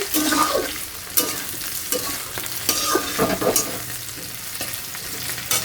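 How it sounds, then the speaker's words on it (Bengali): Potatoes and onions frying in a pan with loud, close sizzling and repeated scraping stirs of a spatula every second or so, no voices over it. "প্রথমে আলু আর পেঁয়াজটাকে একটু ভেজে নিচ্ছি"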